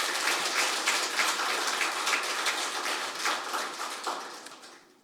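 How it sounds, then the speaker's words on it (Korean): Audience applause at a Korean public hearing on mental health policy, a dense steady patter of many hands clapping close by for about five seconds, then thinning and fading out at the end, with no talk over it. "제 의견에 동의하면 박수를 부탁드리겠습니다."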